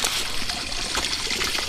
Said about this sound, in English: So, there's another little waterfall thing over here too.